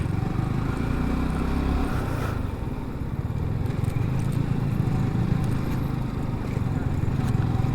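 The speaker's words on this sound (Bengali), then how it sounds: "কঠিন একটা রাস্তায় বাইক চালাইতেছি ভাই এখন।" Motorcycle engine rumbling steadily up close as it rides a rough border road near Sunamganj, Bangladesh, over uneven ground, with rattles and bumps throughout.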